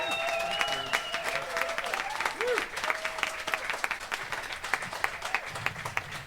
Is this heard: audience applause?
yes